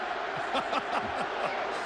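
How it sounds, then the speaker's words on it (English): A football stadium crowd at a 2005 Bengals at Chiefs NFL game sends up a steady, broad roar from the stands, with a voice talking over it throughout. "the crowd wants blood"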